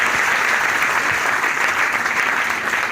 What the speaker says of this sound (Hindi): तीनों अतिथियों के लिए एक बार जोरदार तालियां बजाएं।